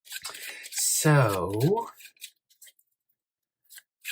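Tarot cards are shuffled, giving quick scraping, riffling rubs of card against card close by, followed by a few sparse soft taps; a voice speaks briefly during the shuffle.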